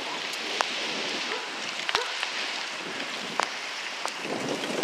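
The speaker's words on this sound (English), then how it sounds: "So it's really windy, as you can hear." Strong wind buffeting the microphone on a bike ride, a steady gusty rush with a few sharp knocks, moderately loud and without talking.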